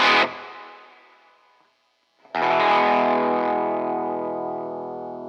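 A 1983 Gibson Futura electric guitar rings out through distortion and effects: a brief struck chord fades away, then after a short gap a loud strummed chord sustains and rings evenly to the end, alone and close.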